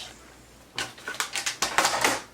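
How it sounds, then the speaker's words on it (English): A paper trimmer slicing through card stock, a brief run of crisp, close scraping and crunching strokes that grow louder and denser toward the end, with no talk. "I'm going to go and take my trimmer back and just put this back in at 3 inches and just cut off whatever was there"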